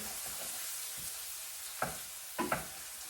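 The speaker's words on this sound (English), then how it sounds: "So I'm just gonna give this a cute little stir." A steady sizzle of food frying in a pan runs throughout, with a few brief scraping stirs standing out near the end; no one speaks.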